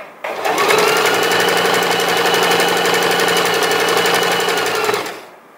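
A sewing machine stitching around the corner of a ragged-detail tote bag runs in one steady, loud whirring burst for about five seconds, then stops.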